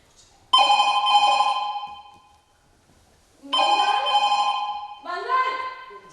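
An electronic telephone ringtone sounds close and loud in two separate bursts, with a slightly different ring following the second, over a quiet background.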